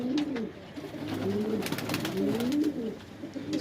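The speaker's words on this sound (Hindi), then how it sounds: "शान की कबूतरी है।" A Madrasi pigeon coos close by, repeated soft throaty rolling calls in a wavering rhythm, with faint rustling and a quiet room behind.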